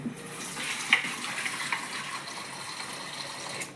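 Running water over a steady broadband wash, a person rinsing something by hand under a tap, continuous and close with a few small clinks and splashes throughout.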